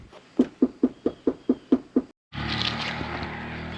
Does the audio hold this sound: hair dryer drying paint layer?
no